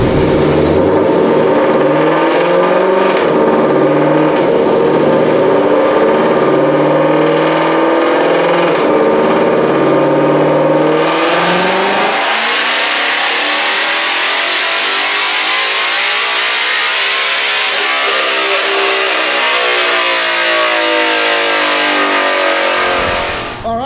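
A supercharged 2020 Shelby GT500 fitted with a JLT intake makes a dyno pull. The engine climbs hard and loud through a long rising rev with a whining supercharger, then shifts and keeps climbing before cutting off abruptly.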